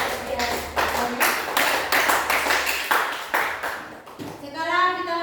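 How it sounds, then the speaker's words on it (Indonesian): A classroom of children claps for a student group after its presentation, a steady burst of hand claps running several seconds before fading, with a voice briefly audible near the end. "beri tepuk tangan untuk kelompok 1 yang sudah mempresentasikan hasil"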